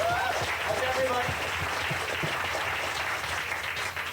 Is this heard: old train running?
no